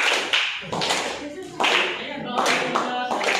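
Students leading a yel-yel cheer ahead of a classroom presentation clap out a rhythmic pattern, crisp clap bursts spaced between group chanting and singing voices, near and moderately loud.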